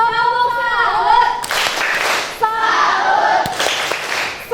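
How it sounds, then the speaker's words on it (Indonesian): A classroom of pupils claps hands in short rhythmic patterned bursts for a classmate, sharp slaps alternating with stretches of voices, close and loud. "Kita kasih tepuk tangan buat Alfa."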